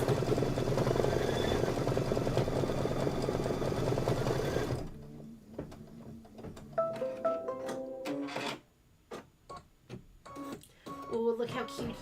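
A sewing machine steadily stitches appliqué onto a Kimberbell Cuties October table topper, a dense loud whir for about five seconds that stops, followed by quieter handling clicks and rustles.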